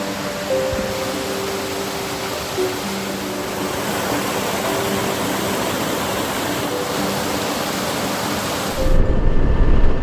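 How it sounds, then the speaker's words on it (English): Small stream with a waterfall upstream, heard as a steady broadband rush of flowing water, fairly loud and continuous with no voices, growing slightly rougher near the end. "Just happened past this little stream. There's a waterfall."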